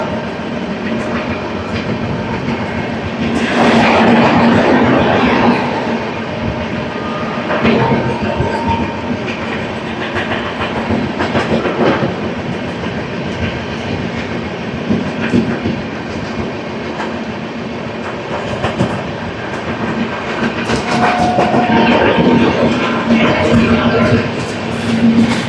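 The New Delhi Duronto Express rolls through a station, heard from on board as a loud continuous rumble with rhythmic wheel clatter that swells and fades; faint speech appears at times.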